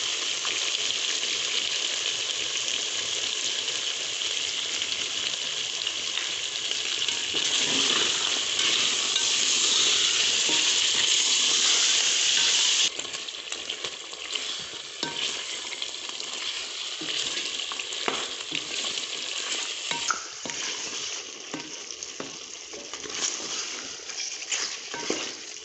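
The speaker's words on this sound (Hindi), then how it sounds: "अब हम इसमें दही और हरी मिर्च डालकर मज़ीद भूनेंगे।" Beef sizzles loudly in a pan with yogurt and green chilies while being cooked down for korma, a constant close crackle with occasional stirring scrapes; the hiss eases partway through.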